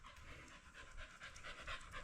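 A dog pants in quick, rhythmic breaths close to the microphone in a garage where a rat rod is being built, soft and alone without voices.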